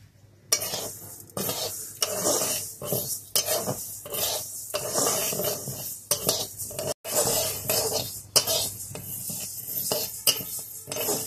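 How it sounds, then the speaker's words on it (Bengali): A spatula scrapes and stirs dry mung dal around a metal pan in steady, close strokes, with light rattling and a faint sizzle throughout. "কড়াইতে আমি মুগ ডাল দিয়ে দিয়েছি, মুগ ডালটা ভেজে নেব।"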